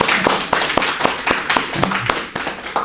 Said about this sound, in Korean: 우리 격려 박수 좀 해드릴까요?